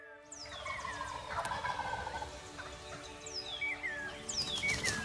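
A wild turkey gobbles repeatedly at a moderate distance outdoors, rolling gobbles layered with other birds chirping and whistling around it, no talk.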